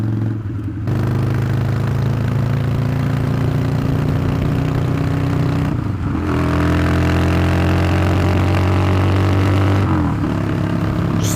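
A motorcycle engine drones loudly while riding through city streets in cold December weather, with steady rising revs, two brief drops as gears shift, and wind rush throughout.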